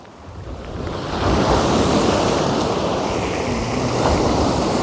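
Sea surf rolls onto Pensarn Beach in North Wales, a loud, steady wash of breaking waves mixed with gusty wind buffeting the microphone, with no voices.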